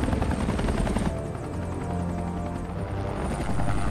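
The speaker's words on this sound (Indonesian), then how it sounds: "Jackie meminta bantuan helikopter untuk mencari sumber masalahnya." A helicopter's steady rotor roar and whine, loud and close, fills the whole clip without a break.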